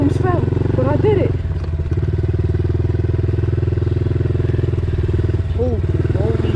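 A dirt bike engine runs loud and close with a steady harmonic drone as it is throttled, a short dip near the middle before it pulls again, while people talk and shout over it.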